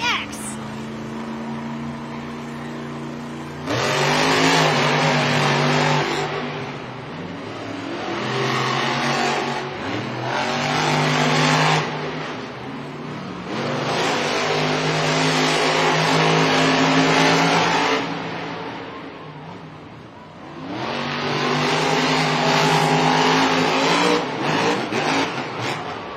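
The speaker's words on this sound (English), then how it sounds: "This is another close race between our Monster Jam drivers." Monster Jam trucks El Toro Loco and X race side by side in a stadium event, their big engines roaring loud and close in repeated revving surges with brief dips between bursts, an announcer's voice running underneath.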